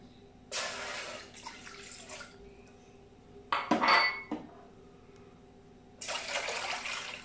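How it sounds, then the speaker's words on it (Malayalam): Two cups of water are poured into a pan on a lit stove for masala sulaimani black tea. Splashy pours come in separate bursts, with a bright metallic clink in the middle, over a quiet kitchen background. "രണ്ട് കപ്പ് വെള്ളം നമുക്ക് ഒഴിച്ചു കൊടുക്കാം"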